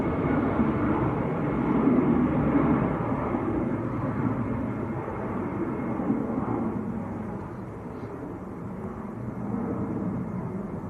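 A jet airliner roars steadily as it climbs away after takeoff at Manchester Airport, a broad continuous rumble that swells and then eases slightly as the plane recedes, with no talk over it.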